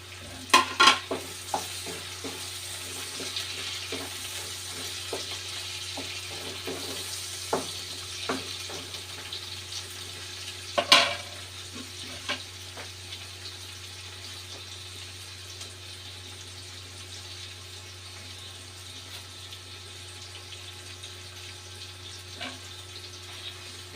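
Tomatoes frying in a pan for a vegetable dish, a low steady sizzle under repeated spatula clicks and scrapes, with a steady hum in the background and a louder clatter midway.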